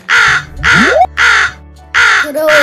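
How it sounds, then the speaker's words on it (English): Four loud, harsh crow caws in sequence, each a raspy burst separated by short gaps, with no talk around them. "Crow."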